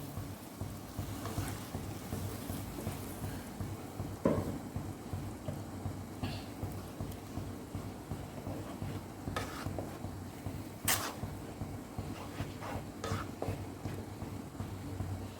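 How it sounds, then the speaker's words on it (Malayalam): Ground tomato from two medium tomatoes hitting a pan of frying spice masala, a dense continuous bubbling sizzle with occasional sharp spatula clicks and scrapes, close and fairly loud. "ഞാനൊരു 2 മീഡിയം സൈസ് തക്കാളി അരച്ചതാണിത്, അത് ഇതിലേക്ക് ഒഴിച്ചു കൊടുക്കുകയാണ്."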